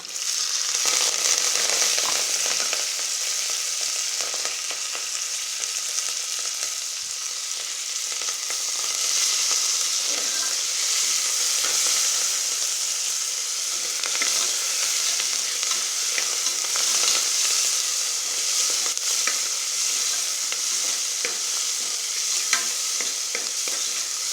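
Tomatoes and curry leaves fry in a pan while sambar rice is being cooked, giving a continuous loud hissing sizzle with occasional stirring scrapes and taps, steady from start to finish and close by.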